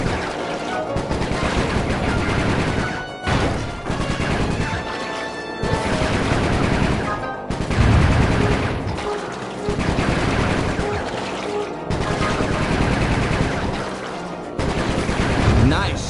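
Gunfire in the Sly 3 video game, long rapid bursts of machine-gun shots broken by brief pauses, loud and up close, with game sounds around them.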